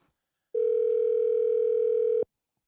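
A steady phone dial tone from a call being placed to a friend hums alone, loud and unbroken for nearly two seconds before cutting off sharply.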